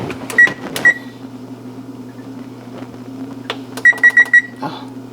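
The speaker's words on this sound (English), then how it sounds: "I hate this timer." Kitchen timer going off while Gouda cheese is being made, two short bursts of bright beeps near the start and a run of four quick beeps later, over a low steady hum.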